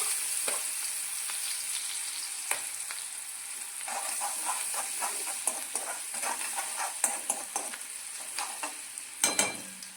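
Chili pieces and green garlic sizzle in hot oil with mustard seeds and cumin, a steady close frying hiss broken by crackles and stirring clatters.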